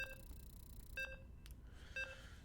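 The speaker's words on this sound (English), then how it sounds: "That annoying mobile phone sound." A mobile phone gives three short repeating electronic beep bursts about a second apart, each a brief tonal chirp over faint low background noise, with no talking.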